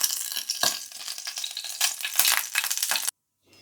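Beef slices browning in a frying pan give a close, crackling sizzle with a few sharp bursts and scrapes as they are turned, then cut off abruptly into silence.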